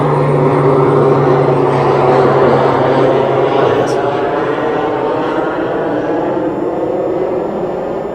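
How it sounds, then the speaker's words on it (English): A propeller plane passes over a nature reserve near Denham, producing a loud, steady drone that fills the whole stretch and eases slightly toward the end. "I've got another plane going over."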